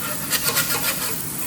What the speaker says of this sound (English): the trick to this now is basically just to flip it with a nice spatula